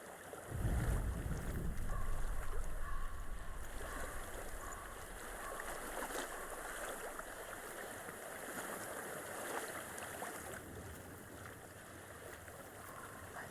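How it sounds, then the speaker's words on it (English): Water flows and rushes steadily through the Hellblade: Senua's Sacrifice game world, a broad, continuous wash mixed with wind, with a brief louder low rumble near the start and no talking. "I hear water."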